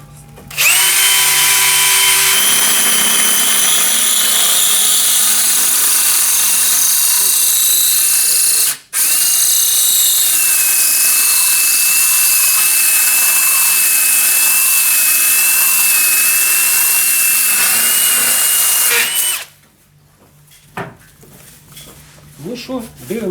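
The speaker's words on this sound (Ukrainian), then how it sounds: "Ну що, починаємо сверлити." Steelring diamond core bit drilling into porcelain tile, a loud steady high-pitched grinding whine running for nearly twenty seconds with one brief break, then stopping, followed by quieter handling noises.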